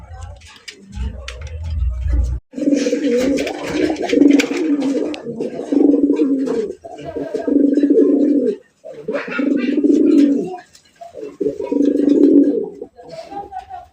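A male village house pigeon coos in a series of close, throaty rolling bursts separated by short pauses, with a brief low thump near the start and faint talk in the background.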